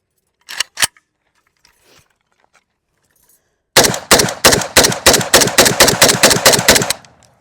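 A Draco pistol fires two quick shots, then after a pause unleashes a rapid string of about fifteen sharp, loud, closely spaced cracks that end abruptly, leaving a faint ringing tail.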